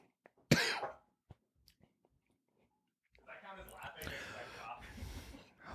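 One sharp, forceful cough near the mic, followed by a few small clicks and then muffled chewing or mouth noises with some voice.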